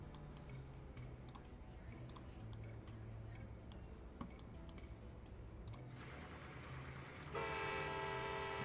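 A local train arriving in the Trainz railway game, with a low rumbling engine drone, rhythmic ticking of wheels and a sustained horn-like tone rising near the end, faint and distant.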